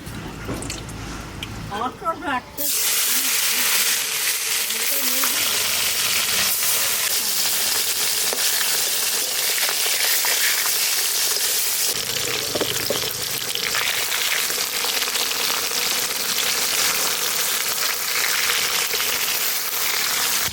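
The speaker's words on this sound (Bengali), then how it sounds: "এদিকে ভাত আস্তে আস্তে হতে হতে আমি এদিকে মাছ কটা ভেজে নেবো" Koi and bata fish fry in hot oil in a wok, a loud, continuous crackling sizzle that starts abruptly after a short quieter opening and keeps going steadily, with faint voices near the start.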